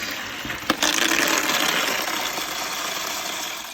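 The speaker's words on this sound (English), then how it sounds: "I'm going to pour all these balls" Small aquarium filter balls pour out in a rush into a white plastic pail, a loud rattling, watery clatter that starts with a sharp knock and slowly tapers off over a few seconds.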